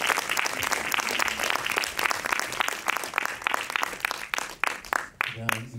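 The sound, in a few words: audience applause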